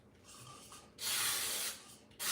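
Nonstick spray from an aerosol can coating a cake pan: a faint hiss, then a loud steady spray burst lasting about a second, a short pause, and another burst starting.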